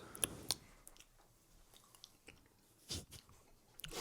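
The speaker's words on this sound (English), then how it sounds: "The chewing sounds, this is turning into an ASMR video." Close chewing sounds, soft crunching bites and mouth noises repeating irregularly in a quiet room, faint but near.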